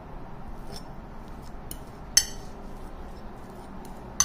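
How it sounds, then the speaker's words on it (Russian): Soft, irregular scraping and tapping of a fork against a bowl as boiled eggs are mashed, with a couple of sharper clinks, close and quiet. "Сейчас вот яйца вилкой давлю."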